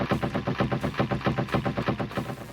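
Rapid gunfire sound effects from the CD version of the PC-88 game Dios: a loud, fast, evenly spaced burst of synthetic PCM shots repeating about six times a second, with no speech.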